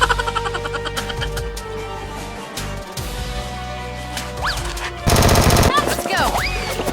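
Nerf toy guns firing during a mock fight, rapid bursts of clicking, rattling shots in quick rhythmic runs, loud and close, with a louder burst near the end and some shouting voices.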